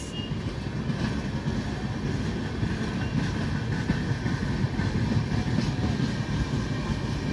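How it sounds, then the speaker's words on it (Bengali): The Howrah Yoganagari Rishikesh (Doon) Express rolls past with a steady, dense rumble and faint rail clatter, holding at an even level with no voices. "Down Dune Express is moving towards Howrah railway station."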